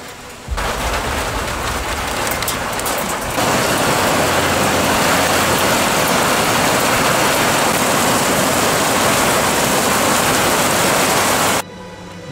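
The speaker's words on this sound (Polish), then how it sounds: "Już zaczyna padać" Steady, loud rain falls in the Bieszczady mountains, a dense hiss of drops that grows heavier after a few seconds and continues unbroken, with no voices.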